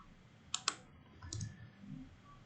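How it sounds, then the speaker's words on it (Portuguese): Two quick, sharp computer mouse clicks close together in a quiet room, saving a file in laser-cutting software, followed by faint soft handling noise. "Pode clicar em salvar."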